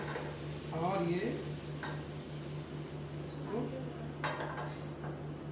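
Two spoons of refined flour being stirred in a pan for a blond roux, a steady scraping stir with a soft sizzle under a constant low hum, close and moderately loud, with brief talk in the background.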